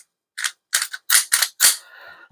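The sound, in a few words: unloading and clearing a Shield Plus pistol to make it safe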